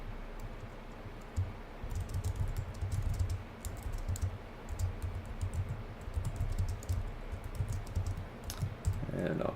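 Fingers type on a computer keyboard: a steady run of quiet, close key clicks with short pauses between bursts, under faint background noise.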